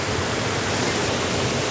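Large river running swollen after rain, a dense, steady rushing roar of flowing water with no breaks, loud and close.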